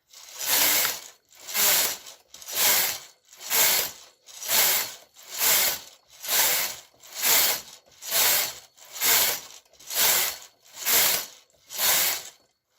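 A hand-cranked sock knitting machine working rows, giving a steady series of about a dozen evenly spaced ratcheting, rasping sweeps, each swelling and fading, close and fairly loud with no talk.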